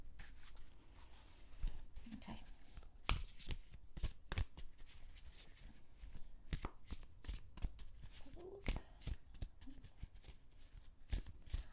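Tarot cards are shuffled up close in a quiet room, with repeated quick riffling bursts and snapping slaps in an irregular rhythm, soft but clear and without talk.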